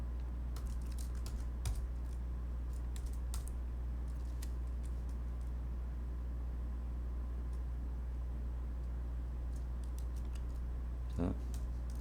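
Computer keyboard keys click in scattered bursts during vi editor practice, faint and close over a steady low hum, with longer quiet gaps between runs of typing.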